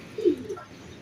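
A high-flyer pigeon gives a single short, soft, low coo, heard close against a quiet background.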